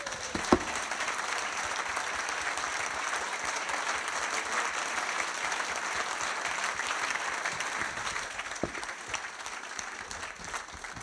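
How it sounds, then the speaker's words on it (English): Audience in a fan forum room applauding for former Sheffield United player Len Badger, steady dense clapping throughout at moderate loudness, easing slightly near the end. "Please give a big round of applause, Len Badger."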